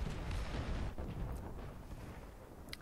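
Artillery shells land in War Thunder, a tank combat game, producing a heavy, rumbling barrage of deep explosions that rolls on and fades slightly, with a faint sharp pop near the end.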